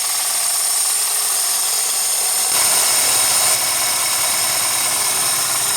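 A 1998 Toyota Corolla LE with a 1.8 L 16-valve four-cylinder engine runs steadily at idle, a constant broadband hum with a bright whine, loud and close, with no talking.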